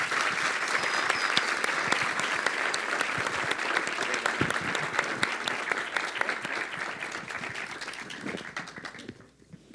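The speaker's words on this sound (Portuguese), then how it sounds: "Gostaria de pedir uma salva de palmas." An audience at a university event in São Paulo gives a long round of applause, a dense, steady roar of many hands clapping that fades out near the end.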